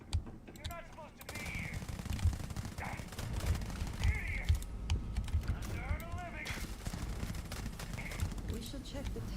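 Rapid gunfire from the RO-18 weapon in the Starfield video game, sharp cracking bursts repeating over a dense background of game sound effects and ambience, fairly loud and continuous throughout.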